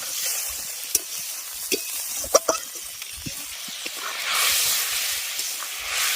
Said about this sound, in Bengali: মশলা কষিয়ে নিয়েছি খুব ভালো করে, এবার এর মধ্যে দিয়ে দিচ্ছি জল